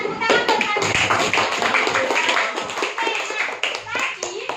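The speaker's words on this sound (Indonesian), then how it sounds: "Oke, nah tepuk tangan buat kami" A group of listeners claps in a small classroom-like gathering, steady applause filling the whole stretch with scattered taps and a voice faintly mixed in.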